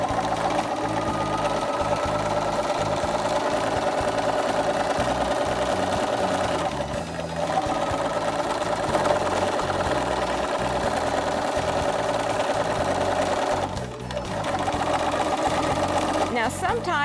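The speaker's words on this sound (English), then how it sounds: "continue to stitch all the way around my hem that has been pressed in place for me" A Bernina sewing machine stitches steadily around a pressed jeans hem, its motor whirring in a close, continuous run with two brief pauses.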